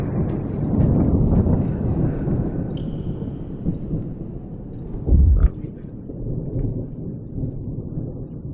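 Thunder used as a background sound effect in an interactive multimedia module, with a long, low rolling rumble and a sharper crack partway through, played under a voice talking.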